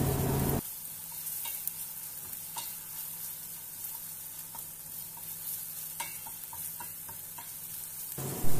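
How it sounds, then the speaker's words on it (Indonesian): Ground garlic and ginger sizzle steadily in a hot pan while being stir-fried for an egg curry, a continuous bright frying hiss with scattered scraping stirs, no talking. "masukkan seperti ini, kemudian ditumis lagi sampai aromanya harum."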